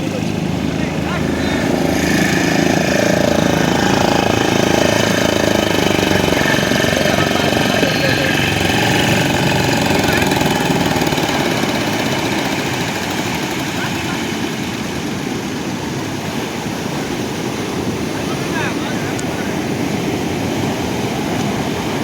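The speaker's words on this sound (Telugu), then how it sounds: "బోటు ఒడ్డుకు చేరుకోగానే ట్రాక్టర్ సాయంతో బోటును ఇంకా కొంచెం ముందుకు లాగుతారు." A tractor engine drones loud and steady on a beach while pulling a fishing boat ashore, easing slightly lower partway through, with voices talking underneath.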